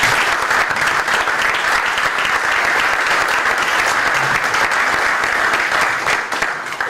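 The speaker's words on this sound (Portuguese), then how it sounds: "Uma salva de palmas para Carlos Abreu Mourinho." Audience at a political campaign information session in Portugal applauding, with dense, sustained clapping that holds steady and loud for several seconds before starting to thin at the end.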